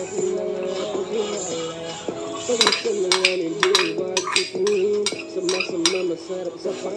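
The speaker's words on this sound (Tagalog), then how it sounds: "Ilalagay na natin itong pork and beans" Canned pork and beans go into a pot of chicken feet curry, with repeated metallic spoon scrapes and clinks against the pot over a steady background hum, fairly close.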